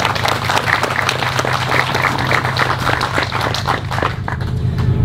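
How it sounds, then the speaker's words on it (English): Applause from a crowd gathered at a Purple Heart award ceremony honoring veterans of VFW Post 1033, a dense, steady patter of many hands clapping close by for several seconds, easing slightly near the end. "Please give them a round of applause."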